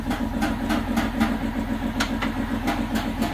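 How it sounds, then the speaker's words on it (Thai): Steady, rhythmic chugging of a Ford New Holland TS90 tractor's diesel engine idling nearby, low and continuous with regular pulses. "รถ TS90 Ford New Holland รุ่น TS90"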